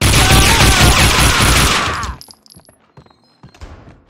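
Gunfire in the video game Max Payne 2: a loud, dense burst of rapid automatic shots for about two seconds, then it cuts off to a few quieter thuds and clatters.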